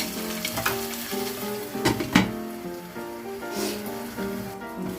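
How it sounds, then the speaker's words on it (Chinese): A mackerel fillet pan-frying skin side down, a continuous crackling sizzle with a few louder spits and pops over soft background music. "煎的时候不用一直翻动它哦，我们先煎个2分钟。"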